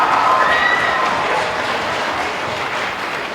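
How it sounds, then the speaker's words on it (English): Loud, roaring applause with cheers from a crowd of families at a school spring band concert, already at full volume and tapering slightly as it continues. "can we give a roaring round of applause for your parents and grandparents and family?"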